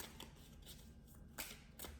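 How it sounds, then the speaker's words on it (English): Tarot cards being shuffled by hand, a quiet close rustle with a couple of brief sharper riffles near the end. "Well, let's just go ahead and shuffle a little bit more."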